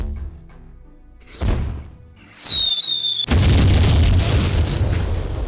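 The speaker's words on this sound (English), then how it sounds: "So instead, let's shoot this guy." A gunshot in the video game Jagged Alliance 2 lands as a loud, boomy blast, followed by a whistling rising tone and a second heavy burst that trails into a long, dense roar.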